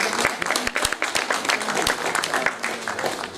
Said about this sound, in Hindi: इन बच्चों की तालियों से एक बार हौसला अफजाई ज़रूर करें